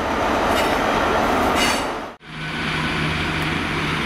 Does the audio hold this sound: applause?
no